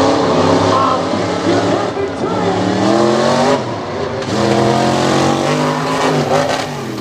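A racing monster truck, a Jeep body on a Bronco chassis, roars at full throttle at Lake Erie Speedway, its engine loud and close with rising revs, while an announcer talks over it.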